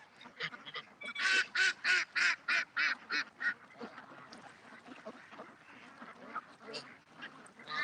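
A goose honks in a fast run of about a dozen nasal calls, then scattered fainter calls follow at moderate distance outdoors in the morning.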